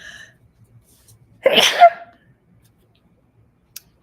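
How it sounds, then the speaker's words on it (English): A single loud, sharp sneeze bursts out after near silence, followed by a brief faint click. "I gotta sneeze."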